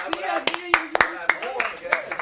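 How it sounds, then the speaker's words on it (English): A handful of scattered hand claps ring out during a brief round of applause among a small group of men, sharp and close, mixed with overlapping talk and voices. "Can we get a round of applause real quick?"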